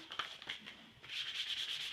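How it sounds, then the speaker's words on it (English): Dry, scratchy 500-grit wet or dry sandpaper rubbing over flexible filler in short back-and-forth strokes at first, then settling into steadier, continuous sanding, close and fairly quiet. "I'm going to do a little sanding. I'm going to start with some 500 wet or dry."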